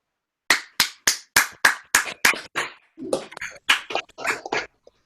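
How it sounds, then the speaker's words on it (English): A series of sharp, separate claps, several people applauding unevenly over a video call's thin connection, bursts spaced irregularly and fading toward the end. "Please unmute yourselves now so we can applaud tonight's speakers."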